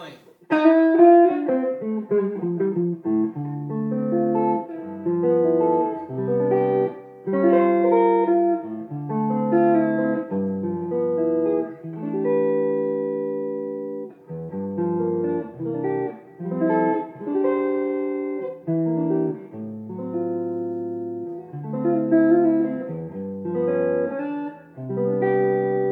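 Electric guitar through a Jet City amp on the neck pickup gives a clean, jazzy tone, playing a sustained sequence of chords and melodic notes at moderate loudness with a warm, rounded ring and no talk.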